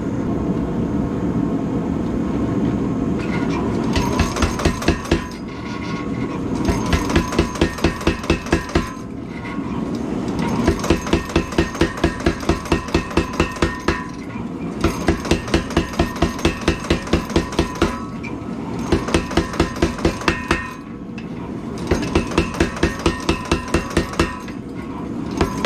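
A dagger blade is hammered during forge welding in rapid rhythmic volleys of ringing blows on the anvil, with short pauses between bursts over a steady roar of the forge.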